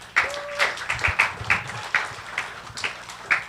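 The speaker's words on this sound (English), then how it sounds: "Once again, a warm round of applause," Sparse, scattered applause from a small conference audience, a handful of uneven claps at close range rather than a full ovation.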